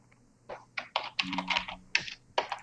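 Computer keyboard typed on at close range, a short run of soft clustered key clicks in uneven bursts, fairly quiet with no voices.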